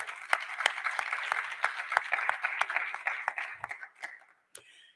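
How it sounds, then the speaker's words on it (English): Audience at an awards ceremony clapping for sponsors, an uneven round of applause from a modest crowd with distinct individual claps, thinning out and stopping near the end. "Please give our sponsors a round of applause"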